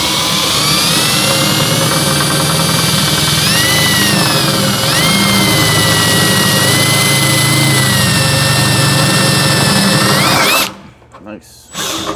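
A power drill whines loudly and continuously while working on a 1968 Dodge Charger, its pitch dipping briefly under load a few times, then stopping near the end.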